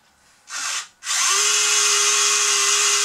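Worm gear motor driving the arm of a Huina 580 all-metal RC excavator gives a loud, harsh whine: first a brief burst, then a steady continuous run close by.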